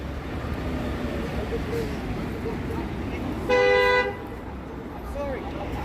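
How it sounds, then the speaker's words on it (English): A Toronto TTC city bus blasts its horn once in a loud, sustained honk lasting about half a second amid busy downtown street traffic noise on a chilly December day. "Got a TTC bus honking at people."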